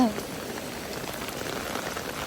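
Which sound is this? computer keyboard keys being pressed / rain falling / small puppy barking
rain falling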